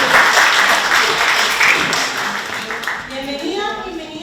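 An audience applauds for Javiera after a fashion history talk, and the clapping dies away over a few seconds as a voice begins speaking over its tail.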